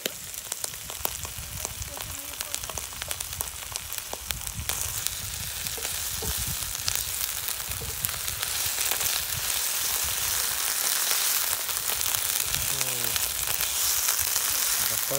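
Garlic frying in a pan with salt and chilli seasoning, a steady broadband sizzle running unbroken throughout, with faint clinks and some low background rumble.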